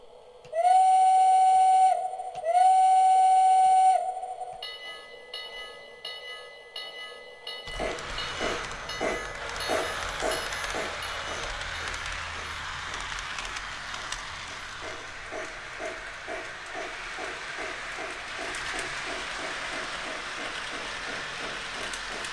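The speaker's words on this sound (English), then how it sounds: "show you what this train looks like running around my attic layout" A Lionel Lines starter-set model train on an attic layout gives two loud electronic whistle blasts, then rolls along with a rhythmic clatter of wheels on track and a steady motor whir.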